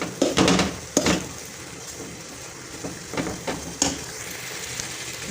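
Choori being stirred and fried in ghee in a pan, giving irregular scraping stir strokes and soft sizzling, close and moderately loud, with no talking.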